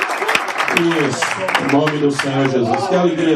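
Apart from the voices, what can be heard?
congregation applause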